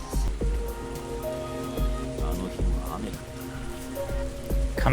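Steady rainfall patters on surfaces as a continuous wash, layered under a low sustained musical drone and soft tones in the Rebellions video game.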